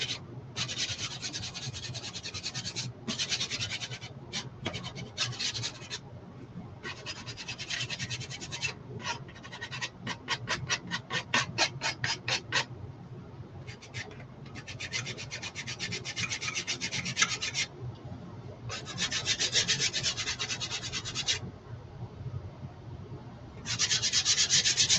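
Hand sanding a Mickey Chalk Couture piece to distress it, a steady rasping scrub repeated in short bursts and longer passes, close and fairly loud with brief pauses between strokes.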